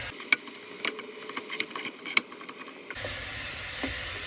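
Minced beef cooking in a pan, a hissing sizzle with scattered sharp clicks and scrapes of stirring, the hiss turning steadier and broader partway through.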